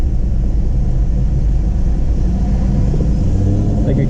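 A car engine idling and creeping right beside the listener in city traffic, a loud, close, continuous low rumble with a voice talking over it.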